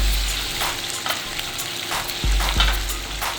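Onion paste hitting chicken already frying in a karahi for a tomato chicken curry, bringing a steady hiss of sizzling oil with a few louder bursts and some stirring, close and loud with no talking.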